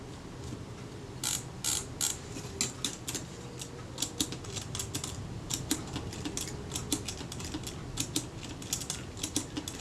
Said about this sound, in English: I'm just rolling the sprocket shaft with my thumb, and that is all working very smoothly indeed.